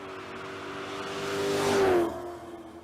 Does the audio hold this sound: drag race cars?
yes